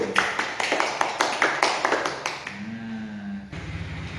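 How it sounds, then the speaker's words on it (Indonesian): Classroom applause for the first student group, a dense burst of clapping in the opening seconds that fades out, followed by a low murmur and a short hum before the clapping briefly returns near the end. "Tepuk tangan untuk kelompok satu."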